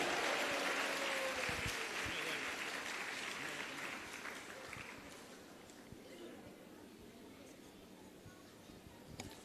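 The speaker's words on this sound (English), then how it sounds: "You can give a loud round of applause," An audience applauds after a students' drama at a Madurai event, a dense roar of clapping that starts loud and gradually thins and fades over several seconds, with faint voices underneath.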